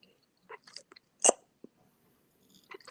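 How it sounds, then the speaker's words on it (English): Someone munches and chews food close to the microphone, with a few scattered crunchy bites and one louder chomp amid quiet gaps. "I can hear you munching."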